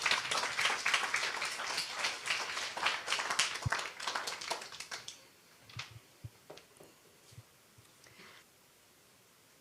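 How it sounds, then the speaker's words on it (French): A live audience applauds: dense, loud clapping for about five seconds, then thinning out into a few scattered, fading claps. "Et on applaudit, bien sûr."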